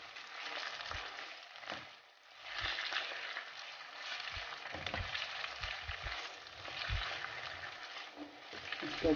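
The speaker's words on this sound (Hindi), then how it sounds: "इसको अच्छे से रोस्ट करेंगे हम।" Vegetables and chicken sizzling as they roast in a pan for spaghetti, a soft continuous frying hiss with occasional stirring clatter, heard quietly throughout.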